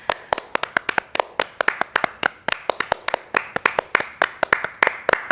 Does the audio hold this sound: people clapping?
yes